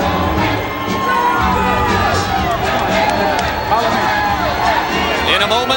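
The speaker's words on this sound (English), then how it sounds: "there is a sizable crowd on hand" A large arena crowd cheers and roars steadily ahead of a heavyweight boxing bout, a dense, loud wash of shouting and whoops with no break, voices blending into one continuous swell.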